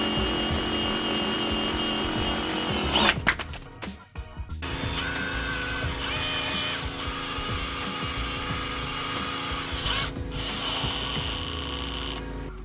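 Power drill fitted with a socket attachment running bolts on the front strut of a 2016 GMC Sierra with a 6-inch BDS lift, a steady close mechanical whir with a short burst of clanking and a brief pause before whirring on.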